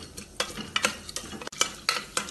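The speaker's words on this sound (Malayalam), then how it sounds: "ഇത് കുറച്ച് സമയം ഇളക്കി വഴറ്റാം" Cinnamon sticks, whole peppercorns and a bay leaf stir-fried in a pan for biryani: a spoon scrapes and clinks in several quick strokes over a soft sizzle, close by, with no voices.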